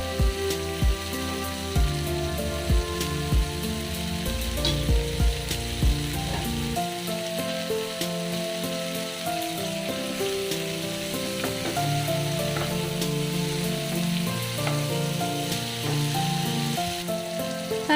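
Cabbage frying in a pan for vegetable chowmein, a steady close sizzle with stirring scrapes and clinks throughout, growing busier partway as the cabbage goes in.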